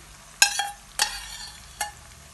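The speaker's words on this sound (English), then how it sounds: "So we stir it together." Onions sizzle in a pan while a utensil stirs them in three distinct scraping strokes, close and fairly loud, with a low frying hiss between strokes and no speech.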